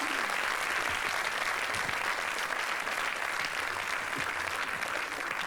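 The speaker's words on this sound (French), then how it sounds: "Est-ce qu'on peut les applaudir, s'il vous plaît ?" An audience claps steadily after a request to applaud presenters at a French public talk on menopause, a dense even wash of hands held at one level throughout with no voices over it.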